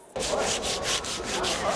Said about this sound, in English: The #1 rule with sanding is go with the grain.